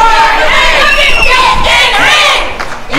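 Loud wrestling-event crowd at an NRW show cheers, yells and whoops continuously, a dense roar of many voices close around that dips slightly near the end.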